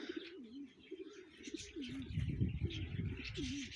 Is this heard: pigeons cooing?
yes